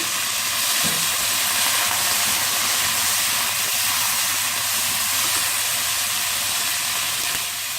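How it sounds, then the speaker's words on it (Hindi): Soy sauce poured into chicken sweet and sour sizzling in a hot pan gives a loud, steady frying hiss with steam that holds evenly throughout, with no voice over it. "अब इसमें मैं सोया सॉस डाल रही हूँ"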